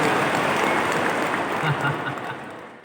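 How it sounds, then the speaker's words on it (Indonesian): Applause from a workshop audience, a broad wash of clapping that fades gradually, with some voices mixed in beneath it. "tepuk tangan untuk kita semuanya"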